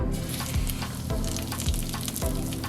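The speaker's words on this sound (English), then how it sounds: "That's the sound. Got it on medium heat. Frying pan is screaming hot." Unsalted butter and olive oil sizzling in a screaming-hot cast iron frying pan on medium heat: a loud, continuous crackling hiss with occasional stronger pops, close up and without talking.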